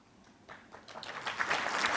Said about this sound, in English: Or applause. Applause is good too.